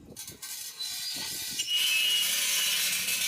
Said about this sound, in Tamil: அப்படியே கட் பண்ணி எடுத்துருவோம்